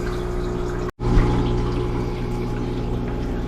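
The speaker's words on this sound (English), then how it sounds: "We hook it up to a hose and we come straight down into a bucket, and we'll be draining the water as we're sucking the stuff out." Sunbelt water changer pump draining aquarium water through a hose into a bucket, a steady close liquid hum and gurgle with a brief cutout near the start before the flow resumes.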